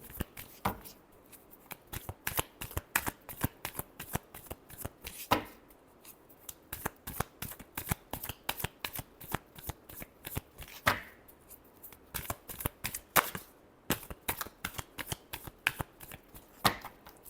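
Tarot cards shuffled by hand, a rapid run of crisp riffling slaps and flutters repeating in quick bursts, close and clear with no talk.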